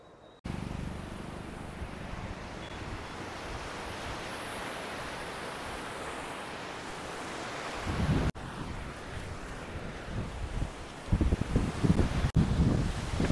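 Constant broadband rush of flowing water near a resort fills the clip, loud and unbroken, with some gusty wind buffeting and brief noisy bumps near the end.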